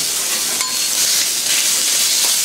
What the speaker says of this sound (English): So put a little bit of ginger with the bacon. So we're going to fry that up for a minute.